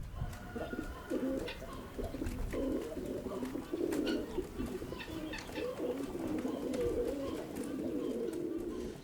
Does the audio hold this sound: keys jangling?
no